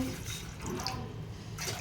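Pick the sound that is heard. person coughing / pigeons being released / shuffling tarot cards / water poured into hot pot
water poured into hot pot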